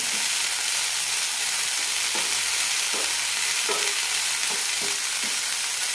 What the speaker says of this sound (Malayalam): ഇലകളും ചേർക്കാം നന്നായി വയറ്റാം